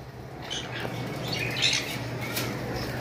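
Several birds squawk and call among the cages at a bird seller's shop, harsh overlapping cries over a steady low background hum, fairly near and continuous.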